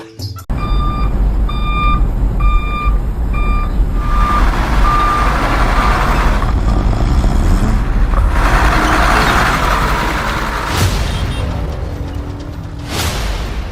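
Trucks queued outside a weighing station send out a loud, evenly spaced reversing beep for several seconds over a heavy, rumbling diesel engine and road noise that carries on after the beeping stops.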